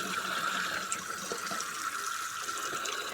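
Water runs from a tap as a container fills, a steady close splashing stream with a bright hiss that holds evenly through the moment, with no voices.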